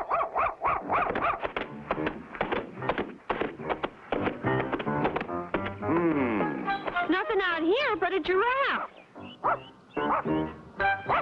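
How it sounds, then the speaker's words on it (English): A cartoon dog barks repeatedly in short bursts amid animated dialogue, its yaps mixed in and partly overlapping with people talking. "Go away, dog."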